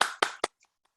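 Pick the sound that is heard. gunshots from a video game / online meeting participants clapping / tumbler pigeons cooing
online meeting participants clapping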